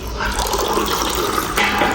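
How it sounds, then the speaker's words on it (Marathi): A newly turned-on household tap runs in a steady, close rush of water with a slight surge near the end and no talking. "आता मी तुम्हाला हा नळ चालू करून दाखवतो"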